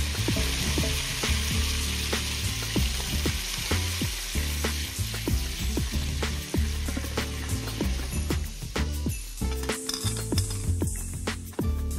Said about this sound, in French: Déglacez ensuite la poêle avec un peu de jus de citron.